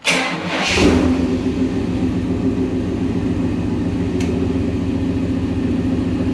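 A car engine cranks briefly and catches, then settles into a loud, steady idle rumble close by.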